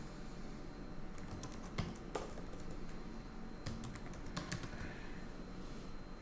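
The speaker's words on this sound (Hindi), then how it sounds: "मुझे अपना यहाँ पर ईमेल एड्रेस भी टाइप करना है" Keys on a computer keyboard are tapped in quick bursts while an email address is entered, the clicks soft and fairly close over a steady background hiss, with short pauses between runs.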